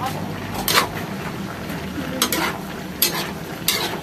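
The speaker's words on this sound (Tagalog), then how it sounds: "Kaya, haluin na po natin." A spoon scraping and stirring adobong isaw (pork intestine adobo) in a simmering pot, several short clattering strokes over a low bubbling background.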